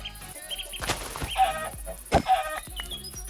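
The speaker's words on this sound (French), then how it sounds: "désolé pour les petits poulets" Minecraft chickens clucking in a game scene, with several short, fairly close clucks scattered among clicks and other game sounds, and no talk.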